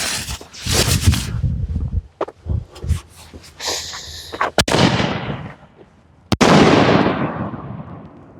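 Danger Doll Maneater canister shells fire outdoors, with loud launch thumps followed by crackling, booming aerial bursts that each leave a long trailing hiss. Several shots come in quick succession and two sharp reports stand out near the end.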